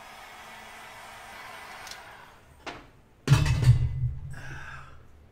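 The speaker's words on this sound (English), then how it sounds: "When a lid does not want to come off, that's where the heat gun comes in handy." A heat gun blows on a stuck paint can lid, a brief steady whooshing roar that starts abruptly after a few quiet knocks and handling noises, then fades out.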